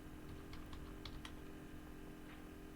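A few soft, irregular keystrokes tap on a keyboard, faint against a steady electrical hum, then fall quiet.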